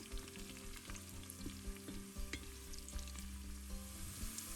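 Sliced garlic, about one and a half tablespoons, sizzles steadily in a pan for an Afghan Kabuli pulao, with occasional scrapes and taps of a utensil stirring it, close and continuous.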